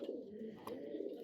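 A silver racing pigeon from a 41-kilometre tournament gives a soft, brief coo, faint and close in an otherwise quiet moment.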